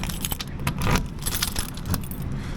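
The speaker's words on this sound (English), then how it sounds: "I gotta get my keys out first." A bunch of keys jangles continuously for a couple of seconds as it is pulled out at a generator service site, close and clear with faint background noise.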